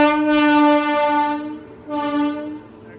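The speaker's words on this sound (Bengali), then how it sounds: "এই যে আমাদের ট্রেন আগত হয়ে সেই 1 যুগ পর আমাদের ট্রেন আসছে আজকে।" A Malda–Anand Vihar special train arriving at a station sounds its horn in two loud, sustained blasts, the second shorter, with a low rumble beneath.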